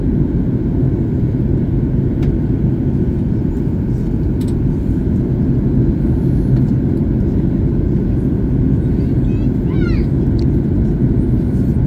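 An airliner flying from Amman descends toward landing in Cairo, Egypt, its engines and airflow making a constant loud low rumble with faint chirps and clicks in the cabin.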